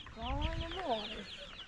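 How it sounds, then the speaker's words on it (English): Chickens cluck close by in a pastured layer coop on a chilly morning in Lassen County, a short run of rising and falling clucks with a quiet voice faintly beneath. "Here's the chickens."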